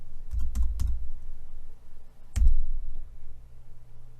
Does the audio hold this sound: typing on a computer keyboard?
yes